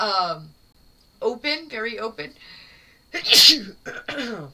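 A single loud sneeze bursts out amid people speaking, with talk before and after it.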